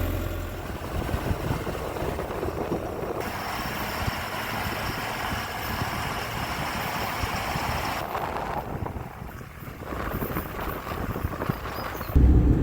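A tractor hauling hay drives past on a rural Illinois property, a steady low engine rumble that stays fairly constant throughout, partly buried under heavy wind buffeting the microphone, with no talking.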